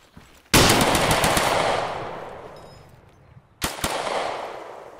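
Automatic gunfire in the Arma 3 DayZ Overpoch game, a loud close burst of rapid shots that rings out and decays, followed by a second short burst about three seconds later.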